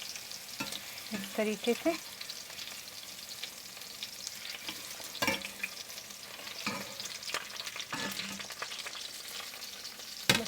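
Okra fries in oil in a pot for pickle, giving a quiet, steady crackle with occasional clinks and scrapes of a utensil. Someone speaks briefly near the start, and the whole scene is fairly faint and close.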